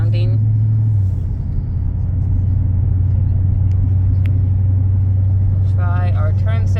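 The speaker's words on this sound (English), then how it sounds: "it's a nice sounding car. Like, I assume that's all factory exhaust" A 2018 Dodge Challenger with its factory exhaust, a steady low engine rumble and drone while driving, loud and close from inside the car, with someone talking briefly at the start and end.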